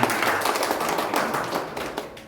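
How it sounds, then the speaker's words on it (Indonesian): A church congregation claps during a worship service, a brief, dense patter of many hands at close-to-moderate distance, slowly easing off with no talking. "Mereka tuh dulu kasih tepuk tangan"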